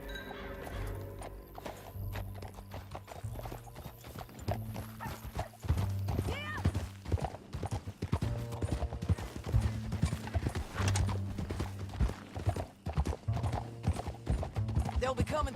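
A horse gallops in Red Dead Redemption 2, with rapid, rhythmic hoofbeats pounding up close throughout and an occasional whinny. Voices speak over the galloping.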